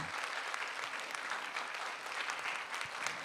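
An audience at a church faith-training completion ceremony gives sustained, even applause for the graduates, steady and dense throughout with no talking over it.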